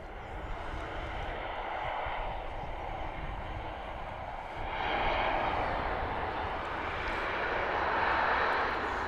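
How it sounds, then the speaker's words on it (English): A large airliner approaching Manchester Airport on a busy Sunday, a steady broad engine roar that swells louder midway and stays sustained, distant but building, with no talk over it. "I can see an aircraft. I think it's quite big."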